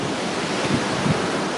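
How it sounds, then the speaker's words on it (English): Knee-deep flood water surges through a Long Island backyard during Hurricane Sandy in 2012, a steady, close roar of sloshing water and wind buffeting with no speech. "I'm in knee-deep water right now in my backyard of my house"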